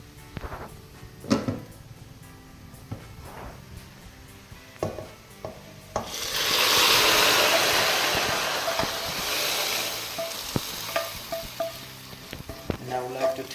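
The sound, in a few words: fried onions added to simmering lamb stew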